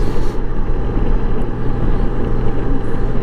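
A 2018 Honda Goldwing trike motorcycle rides along on a mild day, its engine a low steady drone buried under heavy rushing wind noise, continuous and close.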